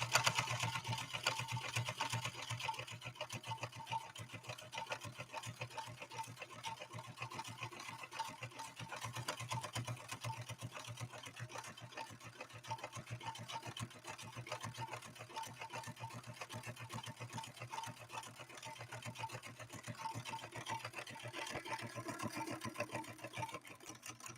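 A 1970s Kenmore 158.13520 sewing machine stitches through leather, its motor whirring steadily and close with a fast needle clatter running the whole stretch, no voices over it.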